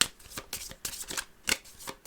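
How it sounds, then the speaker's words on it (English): A deck of playing cards is shuffled by hand during a solo tabletop game of Witchcraft!, a quick run of close, crisp riffling bursts in an uneven rhythm. "These we're then going to shuffle"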